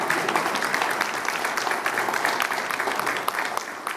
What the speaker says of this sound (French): Je voudrais qu'on lui fasse un applaudissement.